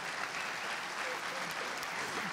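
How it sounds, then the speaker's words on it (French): Audience applause at a conference keynote: a steady, dense wash of clapping from a full room, sustained evenly throughout with a faint murmur of voices mixed in. "Applaudissez, applaudissez."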